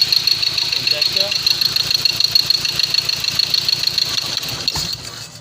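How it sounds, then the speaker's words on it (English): A Ford Ranger T6 engine with injector faults runs rough, its steady pulsing idle carrying an uneven knock before the running cuts out near the end and the sound drops away. "Gonna start the vehicle again."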